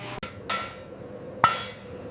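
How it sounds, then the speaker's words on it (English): Three sharp metallic hammer blows on steel being hand-forged into a katana ring out at uneven intervals, each with a short bright decay, against low steady background noise. "The apprentice swings this hammer 500 times per fold."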